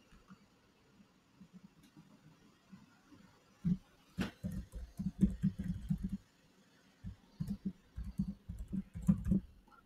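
Quiet computer keyboard typing, a project name entered in soft, irregular bursts of close clicks with short pauses between, faint and without talk.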